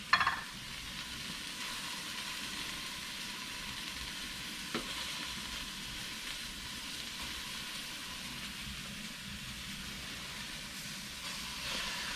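Food for a homestyle beef stew sizzling against the bottom of a pot, a continuous close, even frying hiss that holds steady throughout, with a small clatter at the start and no voices.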